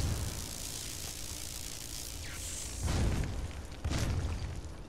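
Two deep, muffled video game explosions in Elder Scrolls Online go off about a second apart over a steady rumbling background noise.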